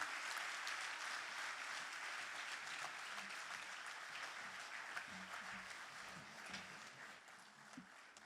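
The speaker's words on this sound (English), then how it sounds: "A big applause to the President." Sustained applause from a large audience at the official opening of an African regional forum on sustainable development goals following the President of Zimbabwe's remarks, a dense, even wash of clapping heard from a distance with no break.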